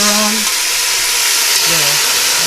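A roast sears in a pressure cooker with a loud, close, continuous hissing sizzle and spattering, and a voice is briefly heard beneath it.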